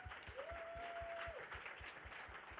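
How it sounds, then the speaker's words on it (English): Sustained audience applause fills a room at a producers' pitching event in Cannes, a steady wash of clapping with a brief tone sounding over it and no talking. "So hand a big round of applause."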